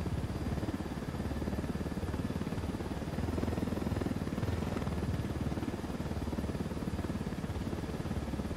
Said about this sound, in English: I can't really see how I'm gonna land this chopper without fucking it up